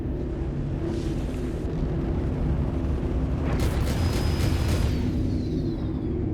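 A destroyed target explodes in the space combat game Star Citizen: a loud, sustained rumbling boom over a dense engine roar, with a bright crackling burst in the middle.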